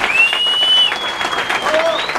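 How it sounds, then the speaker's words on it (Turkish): Audience applause at a FuckUp Nights event in Ankara, a short burst of clapping under a high whistle-like tone that fades in and out, close and fairly loud. "Süper bir sağlam alkış rica ederim."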